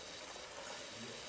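Strontium carbonate reacting with nitric acid, a faint continuous fizzing and crackling of fine bubbles heard up close, with no talking.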